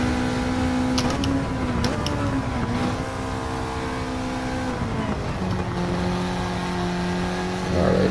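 A Honda Civic Type R FL5 on a race-track lap holds a loud, steady engine drone in third gear, its pitch rising and dipping as it pulls through corners, with brief sharp transients early on; no talk.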